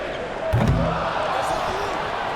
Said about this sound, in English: And then Collins slams it in.